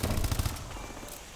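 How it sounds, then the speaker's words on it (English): Gunfire from a sniper and other weapons in a Call of Duty: Advanced Warfare team deathmatch online match, a loud dense burst of shots at the start that fades into a rumbling tail, with no talk. "Sniper fire!"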